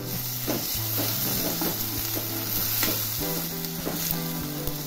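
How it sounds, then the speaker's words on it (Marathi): Tomatoes frying in a pan with crushed ginger and garlic for a mixed vegetable bhaji, giving a loud, constant hiss and crackle with a few soft stirring scrapes, close by and free of talk. "त्यामध्ये आता मी टमाटर घालणार आहे"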